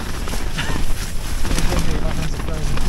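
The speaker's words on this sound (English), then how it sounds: "My God, it's windy." Gale-force wind roars without a break across a wild campsite, buffeting the microphone with loud, steady gusting and flapping for the whole stretch, and a voice is heard faintly within it.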